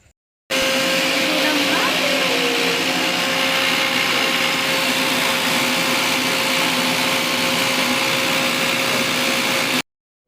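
A kitchen mixer grinder grinds chili paste with a little water, giving a loud, steady whirring roar that starts abruptly and runs unbroken for about nine seconds before cutting off.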